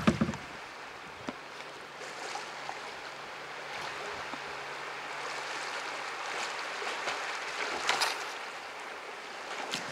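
Kayak gliding on a stream with soft paddle dips and water trickling and lapping around the hull, steady and gentle throughout, with a few brief splashes and no talking.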